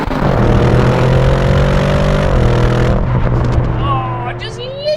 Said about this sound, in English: So I'm going to drop it into Corsa, into manual. Let's listen to this exhaust.